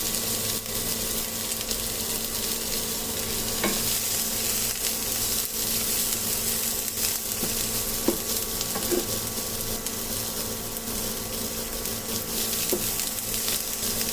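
Onions frying in a small amount of oil for a fish-head murighonto dish, a steady, even sizzle throughout with occasional faint stirring clicks, close and continuous.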